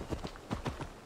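A horse in Assassin's Creed Valhalla trots in with a quick run of soft hoof clip-clops, faint and close, in the rain.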